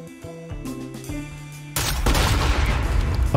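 Proximity grenade exploding in the video game Fortnite, a sudden loud blast and rumbling burst cutting in halfway through over game music, the noisy roar sustaining to the end.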